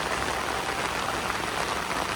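Heavy rain pouring down on a slippery road, a dense, steady hiss of drops close by with no pauses and no voices.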